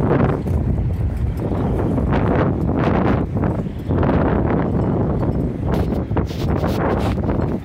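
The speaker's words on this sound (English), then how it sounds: "Oh, there's a big gust came through it." A strong gust of wind buffets the microphone outdoors at an open-water swimming spot during a storm, a loud continuous roar that surges and eases with rustling over it.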